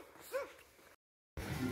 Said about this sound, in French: Et je me fais accueillir par un beau toutou.